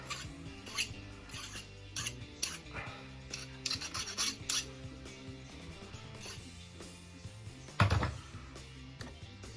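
A metal file rasps across a cast gold ring in repeated quiet strokes, uneven bursts of scraping with short pauses and one sharper knock near the end.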